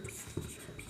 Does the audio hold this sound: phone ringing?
no